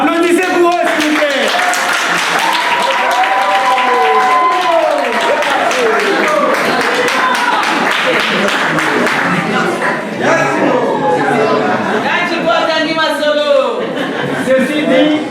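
Applause and cheering for a couple at a traditional wedding, with a crowd clapping alongside chuckles, loud voices and whoops, continuing steadily across the whole stretch amid chatter.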